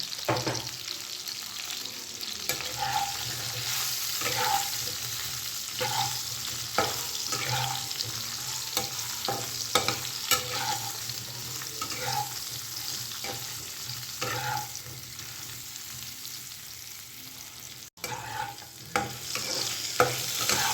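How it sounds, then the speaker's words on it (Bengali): Pointed gourd pieces with salt and turmeric fry in a pan, a continuous close sizzle with repeated scraping stirs and soft clatter running through, briefly cut near the end. "পটলটা আমার হালকা করে ভেজে নেওয়া হয়ে গেছে"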